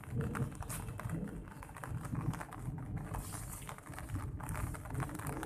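Faint light rain patters irregularly, soft scattered drops tapping close by with no voices.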